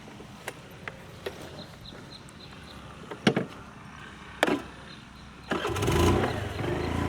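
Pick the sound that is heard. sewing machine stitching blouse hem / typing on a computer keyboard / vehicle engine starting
vehicle engine starting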